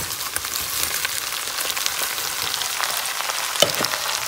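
Vegetables and onions sizzle and fry steadily in a pan, a close, continuous crackling hiss with no talk over it.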